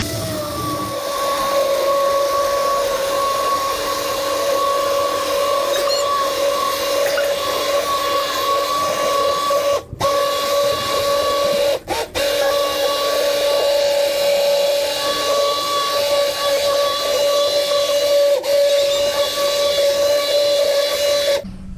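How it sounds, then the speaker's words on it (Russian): A kitchen hand blender purees mushroom cream soup in a pot, a loud, steady whirring drone with a constant pitch that runs without pause, dipping only in two brief cuts near the middle. "И у меня вот такой блендер. Сейчас мы это все перетрем."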